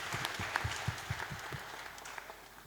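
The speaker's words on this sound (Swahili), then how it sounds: "Makofi ya Emma." Wedding guests applaud the bride Emma, with distinct rhythmic claps close by at first over a softer spread of clapping that gradually fades away.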